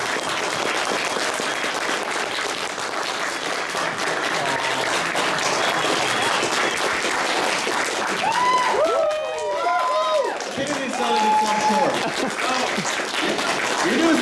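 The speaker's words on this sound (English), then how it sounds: "This guy deserves a huge round of applause." A crowd at a pony expo closing ceremony keeps up a sustained round of applause, with voices and cheering mixed in and rising over the clapping toward the end.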